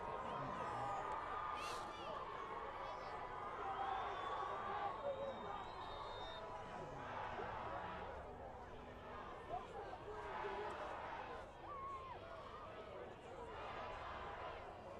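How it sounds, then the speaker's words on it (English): High school football crowd cheering after a touchdown at a Salina Central versus Salina South game, a distant roar of voices and whoops under a commentator's talk. "South crowd is really making a noise right now."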